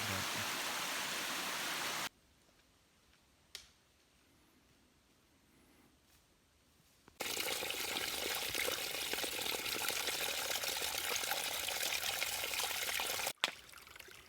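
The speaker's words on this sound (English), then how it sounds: "Wow, beautiful waterfall." A small waterfall on a mountain hiking trail in Vermont rushes as a steady broadband roar, loud and close, dropping away for a stretch of near quiet before the torrent returns at full strength.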